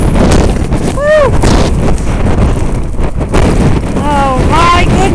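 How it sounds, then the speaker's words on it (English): Loud blizzard wind buffets the microphone in heavy, continuous gusts outdoors at Avalon North during the first snowstorm of the year, with brief whistling tones cutting through the roar. "I hope you can hear me over the wind."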